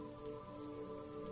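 Steady rain pattering onto a woodshed roof in the Disco Elysium game world, a close, even hiss of drops that continues without pause.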